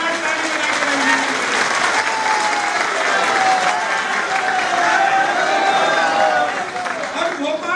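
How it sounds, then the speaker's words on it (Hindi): Audience at a political gathering in Bhopal applauds loudly, a dense, sustained wash of clapping from many hands that holds steady before easing slightly near the end, with a voice faintly underneath. "जोरदार ताली बजाकर अभिनंदन"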